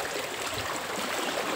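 A stream flows steadily with a soft, continuous rush of water, near and even in level, with no talking over it.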